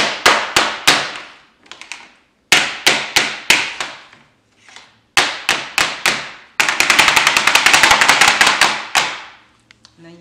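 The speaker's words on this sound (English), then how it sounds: "I literally take the pan and I bang it right on my counter." A baking pan of keto bread batter is banged hard on a kitchen counter, sharp loud metallic knocks in quick groups of four or five, ending with a rapid flurry of dozens of bangs.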